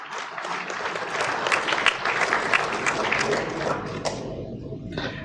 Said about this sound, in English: give the first inaugural REFA committee a big round of applause